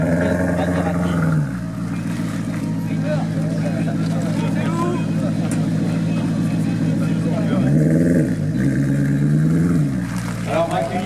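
A Maserati GranTurismo with a Ferrari engine runs nearby at a steady idle with a deep hum and a brief blip of throttle, under near-constant talk from people outdoors at a car gathering.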